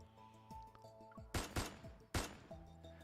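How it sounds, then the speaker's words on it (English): Gunfire in the video game Love and Deepspace, set in an empty reception hall: sharp loud shots ring out over a quiet musical tone, two main blasts with echoing tails and a few smaller cracks around them. "Gunshot explodes in the empty reception hall."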